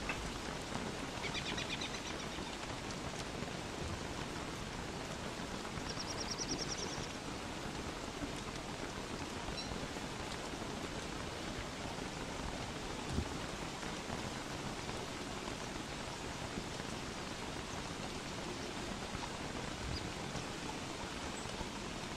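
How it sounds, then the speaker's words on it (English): Steady rain falls in the video game Don't Starve Together, a continuous broadband hiss of downpour at even loudness throughout, with no voices. "Oh, there's rain is coming down."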